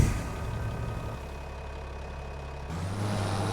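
A tractor engine idles in Farming Simulator 25, a steady low mechanical drone with a brief pitch shift near the end, heard alone without speech.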